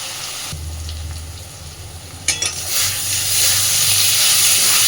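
Spice masala being fried in a pan for a fish kalia, a steady hiss that swells into louder sizzling after a sharp clatter midway, continuing close and bright to the end.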